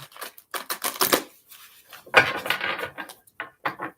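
Tarot cards being shuffled by hand at close range, a quiet series of brisk papery riffles and taps in uneven bursts with short pauses between them.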